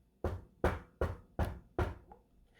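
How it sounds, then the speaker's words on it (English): Five firm knocks on a wooden door in a steady, evenly spaced rhythm, close and clear, followed by a brief rattle and quiet. "They were making dinner when they heard a knock on the door."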